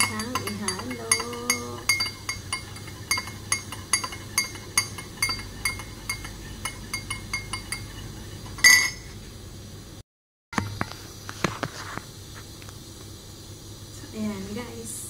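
A spoon clinks repeatedly against a glass while lemon juice and Yakult are stirred together, light rhythmic taps over a low background hum, with a short break near the end.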